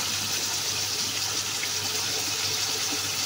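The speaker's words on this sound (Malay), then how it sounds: "Kita letak air asam jawa." Tamarind water pours steadily into a hot pan, a continuous rushing splash that stays close and even throughout.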